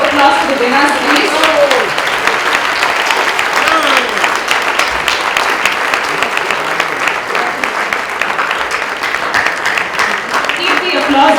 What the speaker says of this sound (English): Can we have a louder round of applause for the winners, please?